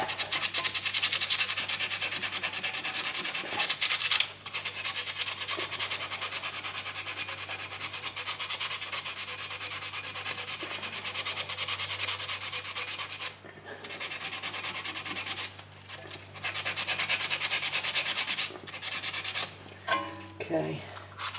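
Emery cloth rubs back and forth on a brake caliper part from the front brakes of a 2004 Toyota Sienna, making a close, loud, continuous scratchy hiss with a few brief pauses and a low hum beneath.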